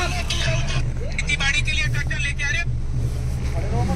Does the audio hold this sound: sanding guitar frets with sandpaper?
no